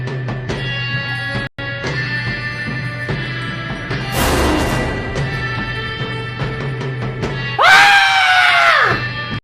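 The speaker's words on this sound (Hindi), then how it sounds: "ये ना समझ लड़का इतनी रात को क्यों चिल्ला रहा है?" A boy shrieks at night in a home, a single loud, rising-and-falling scream near the end after a stretch of steady background sound.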